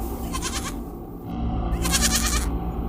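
A cartoon goat bleats twice, each a wavering, quivering cry separated by a short pause, fairly loud and close with no talking over it.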